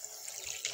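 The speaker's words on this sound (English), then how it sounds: "we're just going to wash them with plain water." Plain running water trickles over fidget toys being washed, a faint, brief, steady splashing wash with no talk.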